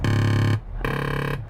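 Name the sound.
RV lane tracking package warning sound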